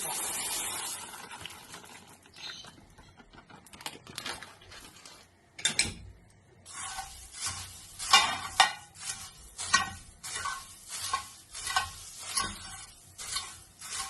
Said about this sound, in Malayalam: ഇനി ഇതെടുത്തിട്ട് നമുക്ക് പൊരിക്കാം. ആ പാത്രത്തിൽ തന്നെ പൊരിച്ചെടുക്കാം.